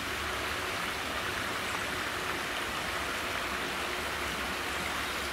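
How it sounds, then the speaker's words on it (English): A brook runs beneath a stone archway in a Welsh village, a constant full rushing wash of water that stays loud and even throughout with no voices. "I'm not sure which brook this is."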